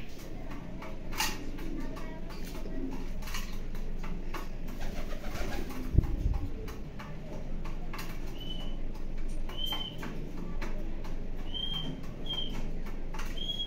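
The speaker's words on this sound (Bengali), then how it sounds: "এই পাশে দেখো কবুতর, প্রত্যেকটা কবুতর দেখো" Racing pigeons coo softly in a loft, low throaty calls repeating under light ambient noise, with a few higher chirps and a single sharp knock partway through.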